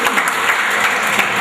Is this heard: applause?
yes